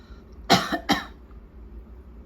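Two sharp, close coughs from one person, spaced about half a second apart, loud against a quiet low hum.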